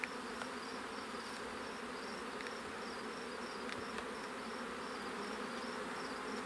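Bees hum around an open hive during work on a queen-up problem, a dense, even buzzing that fills the background quietly and without pause, with a few individual insects flying briefly closer.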